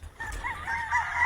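Fighting cocks at a poultry farm give a short, faint crow with wavering, honking calls over a low background rumble.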